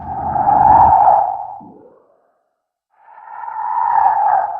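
Two separate banshee scream effects, layered for a vehicle pass-by, each a swelling, wailing tone that rises, peaks and fades, with a short silence between them.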